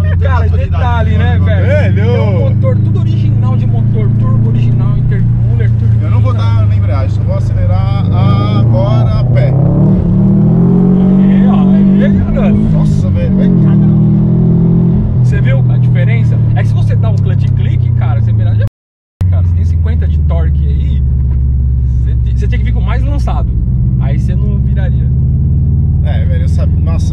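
A Subaru WRX STI with its original turbo engine, intercooler and turbo drones loudly and continuously, the pitch rising and falling as it revs, and it cuts out briefly near the end. People speak over it.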